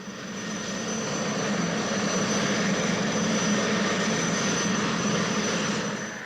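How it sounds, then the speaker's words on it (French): A Super Frelon helicopter's gas turbine engine gives a steady, loud roaring whine with a constant high tone, unbroken and alone for several seconds. "comme par exemple sur cet hélicoptère du type Super Frelon"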